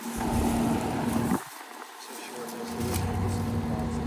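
Vintage 1983 General Electric central air conditioner with a compressor sound blanket running outdoors, a steady droning hum with a tonal whine that briefly drops out as the compressor cycles, then resumes.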